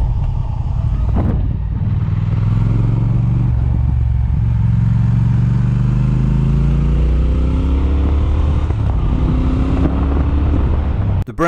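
A Triumph Speed Twin motorcycle engine pulls hard through the revs, a loud, close, deep engine note rising steadily in pitch as it accelerates, with a brief dip near a gear change and no talking.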